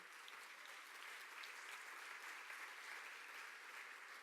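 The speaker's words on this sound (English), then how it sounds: "you can keep clapping, guys" Steady, unbroken applause from a conference audience at a girls' advocacy gathering, a fairly faint and distant wash of many hands that holds an even level throughout.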